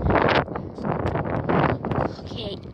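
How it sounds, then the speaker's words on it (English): Wind rumbles and buffets the microphone outdoors on a dog walk, gusting in uneven bursts, loud and close, while a person talks over it. "It's windy."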